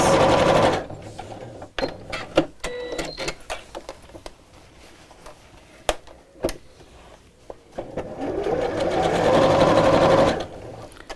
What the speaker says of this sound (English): we'll sew all the way down both sides